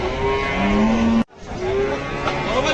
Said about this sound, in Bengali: সেই সুন্দর গরু